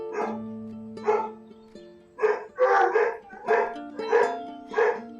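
Dogs barking in the video game Marie's Room: a run of sharp barks and yips in uneven bursts, several overlapping near the middle, fairly close and clear.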